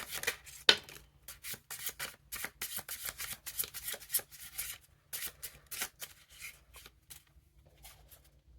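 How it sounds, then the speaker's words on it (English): A deck of tarot cards being shuffled by hand, crisp riffling and sliding bursts repeating in an uneven rhythm, close and fairly quiet with a low steady hum underneath. "We're gonna do one more shuffle."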